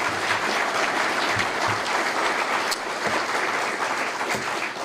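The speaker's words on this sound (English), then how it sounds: "How about another round of applause for all 4 of our recipients?" Steady, sustained audience applause fills the room for the four Police and Firefighter of the Year award recipients at a City of Midland ceremony, dense clapping holding at an even level throughout with no talk over it.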